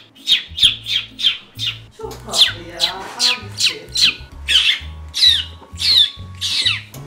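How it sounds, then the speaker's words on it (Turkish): A bird squawks loudly and repeatedly in a steady rhythm, close by in an enclosed room, with a brief spoken word among the calls. "Kuş nasıl girdi ki buraya?"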